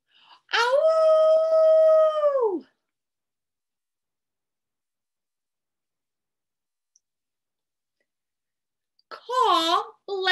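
A person imitates a wolf howl with a long, sustained vocal howl about two seconds long, then falls silent; a second, shorter wavering howl-like call comes near the end.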